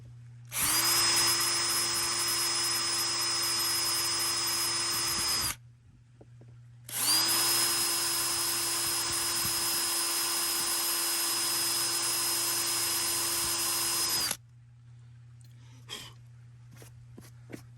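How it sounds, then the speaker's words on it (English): A power drill pre-drills screw holes for a Kemimoto device holder mount on a Can-Am X3, two long steady whining bursts of about five and seven seconds separated by a short pause, close and loud, with no talking. "Okay, so now we're pre-drilled so that we can put our screws right through these holes"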